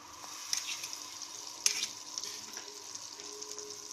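Butter melting and gently sizzling in a hot pan, a steady soft frying hiss with a couple of brief sharper crackles, fairly faint and close, with no talking.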